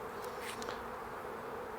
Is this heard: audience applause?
no